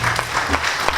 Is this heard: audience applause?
yes